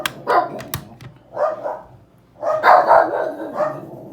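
Dogs bark in excited bursts indoors, several loud barks and yips in clusters with short pauses between.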